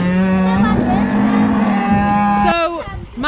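Calves loaded in a livestock trailer moo loudly and close, one long sustained low call followed by a second shorter moo amid rustling movement.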